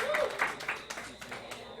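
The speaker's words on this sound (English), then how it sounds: "Round of applause." An audience gives a short round of applause at an evening event, a thin scatter of claps heard from a little distance.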